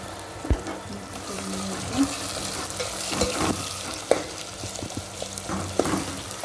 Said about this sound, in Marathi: आपला कांदा लालसर झालेला आहे मी या टोमॅटो टाकून घेणार आहे कोथिंबीर पण टाकून घेणार आहे